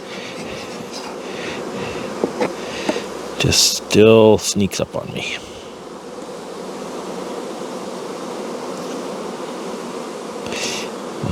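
Honey bees swarm around open beehives while a beekeeper checks for swarm cells, their steady buzzing drone continuing under a man's close speech, with a short burst of louder, clattering handling noise near the middle.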